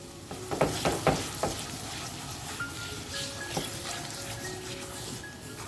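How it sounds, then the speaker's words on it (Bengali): Turmeric and chili powder sizzle and fry as they are stirred in a pan for a Rajasthani papad curry, with a steady crackling hiss and a few scraping stirs near the start. "সমস্ত উপকরণ দিয়ে আমি খুব ভালো করে নাড়িয়ে চাড়িয়ে নেবো"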